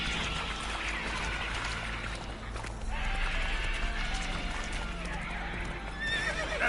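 Geralt's horse Roach gallops in The Witcher 3, a steady drumming of hooves with a whinny mixed in over continuous game ambience and music.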